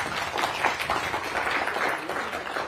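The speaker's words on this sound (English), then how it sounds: "Can we give a round of applause to our presenters?" An audience at a regional transportation funding town hall at Chico State claps steadily for presenters, a soft dense patter of hands that holds evenly for a few seconds.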